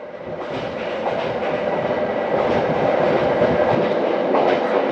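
Overnight train travelling on rails in Vietnam, approaching Hue, with a continuous rolling rumble and faint rhythmic clickety-clack of wheels, growing slightly louder as it goes, no voices.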